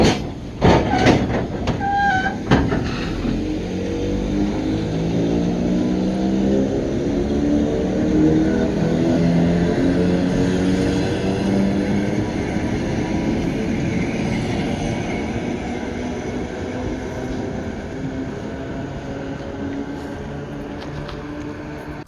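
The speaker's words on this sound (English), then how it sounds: "you can get a very nice, creepy view of the train leaving" A train pulls out of a dark station in rural Ukraine, loud and close, with rising engine and wheel tones, rhythmic clatter and screeching wheel squeals that build and then hold as a steady rumble.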